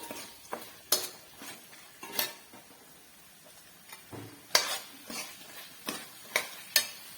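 Fried ingredients for mutter paneer curry stirred together in a pan, with irregular scraping and clinking strokes of a spoon against metal, some sharp and close, over a faint background and no talking.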